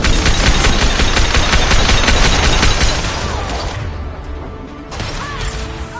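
Rapid gunfire and a concussive shot in the Mass Effect 2 game, loud dense bursts of shots that fade into a thinner clatter with lingering mechanical and electronic tones.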